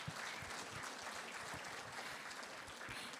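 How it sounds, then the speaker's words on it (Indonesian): Audience applause at a health talk on spirulina and superfoods, a dense steady patter of clapping filling the room without pause. "Ya silakan tepuk tangan."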